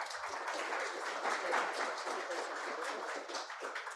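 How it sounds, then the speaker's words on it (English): Audience applause at a decentralized science conference, a dense, even wash of many hands clapping at moderate distance that holds steady for the whole stretch and tapers slightly at the end. "Round of applause, please."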